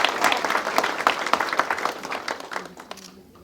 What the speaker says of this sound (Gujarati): તો જોરદાર તાળીઓ પાડીશું દિનેશભાઈ માટે